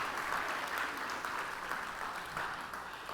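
Congregation applauding in a church, a fairly faint, steady wash of many hands clapping that holds evenly for a few seconds without speech on top.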